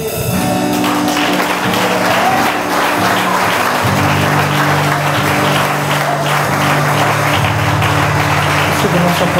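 A church congregation applauds throughout a Nova Vida worship service, steady dense clapping filling the room, layered over sustained organ or keyboard chords and faint voices.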